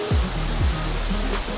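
The Doshi River rushes beside a campsite at Doshi no Mori in Doshi village, Yamanashi, a steady broadband flow of water with a couple of low thumps near the mic.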